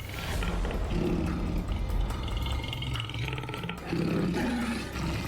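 A tiger roars in dense forest, a deep, rumbling roar that swells twice across the span, loud and close over steady outdoor background noise.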